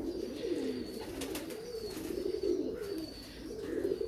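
A female breeder pigeon coos in low, throaty, rolling phrases, close and clear. Faint chirps sound in the background.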